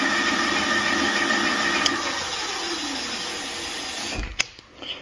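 An e-JOE Epic Swan folding electric bike's hub motor spins freely without load, a steady high whine that eases slightly before cutting off, followed by a few clicks and handling knocks.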